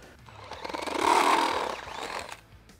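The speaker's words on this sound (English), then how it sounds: "We'll use my step bit, we'll drill a hole big enough to get that bolt through" A power drill with a step bit grinds through metal on a Toyota MR2, a harsh, noisy whine that swells to its loudest midway and then tapers off, close by.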